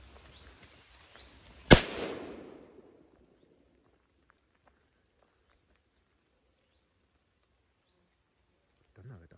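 A single sharp bang from a Supergato F3 firecracker by Elgato rings out, its crackling tail fading within a second, followed by near silence.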